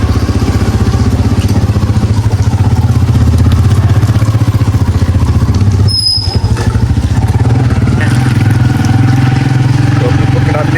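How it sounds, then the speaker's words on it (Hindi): A motorcycle engine runs at a fast, steady idle after starting, chugging close and loud on a rainy street in Pakistan. A brief squeak cuts in about midway before the engine keeps pulsing evenly. "तो बाइक को करते हैं जी स्टार्ट।"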